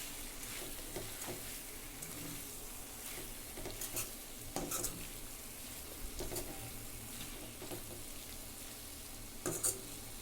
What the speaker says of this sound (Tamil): இது அப்படியே மிக்ஸ் பண்ணி கொடுத்துடலாம்